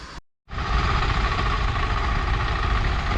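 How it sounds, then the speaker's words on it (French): Heavy engine of farm machinery ploughing land near Meo Vac, Vietnam, a continuous loud rumbling drone after a brief cut of silence, steady and close without voices. "Le bruit qu'on entend en bas, c'est pas ma moto. C'est les messieurs qui labourent la terre."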